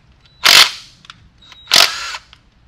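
An impact gun spins bolts off the S54 engine of a roughly 20-year-old BMW E46 M3 during a garage teardown, two sharp whirring bursts about a second apart, close and loud, with quiet between.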